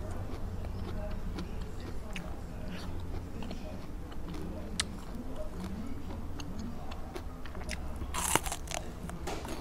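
Crunchy bites and chewing of young galangal shoots, blanched and eaten as a side with Lao-style fish-roe and frog dip, repeated close crackling bites over steady background noise, with a louder crunch near the end.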